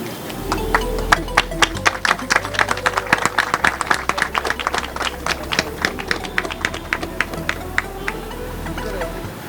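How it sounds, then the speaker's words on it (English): An audience at an inauguration ceremony for a child care centre claps in a steady run of sharp, overlapping hand claps, close and lively for several seconds, with a low murmur of background noise beneath. "Ladies and gentlemen, come on, you can keep clapping."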